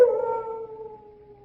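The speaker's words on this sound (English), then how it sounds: "Only the dogs, monsieur. They keep many dogs, large dogs at the Chateau d'Azay." A single long, mournful howl from one of the large dogs kept at a French chateau, starting strong and slowly fading as it trails off, heard alone with no voices.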